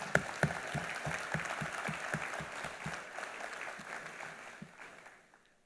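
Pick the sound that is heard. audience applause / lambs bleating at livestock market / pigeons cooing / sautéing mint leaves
audience applause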